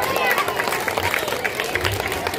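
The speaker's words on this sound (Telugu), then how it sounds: "చప్పట్లు కొట్టండి." Audience clapping at a school annual day celebration, a brief burst of scattered applause mixed with crowd murmur and a voice speaking over it.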